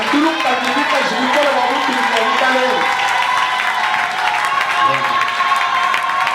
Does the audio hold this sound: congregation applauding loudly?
yes